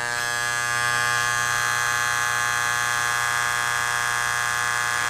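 A Wahl electric hair clipper buzzes loud and steady, with no break, after its power screw is turned clockwise.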